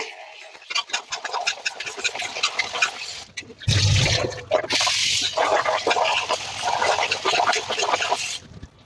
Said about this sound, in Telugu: ఇవి ఇప్పుడు మనం కడిగేసుకుందాం ఇవి కడగడం మాత్రం శుభ్రంగా కడిగేసుకోండి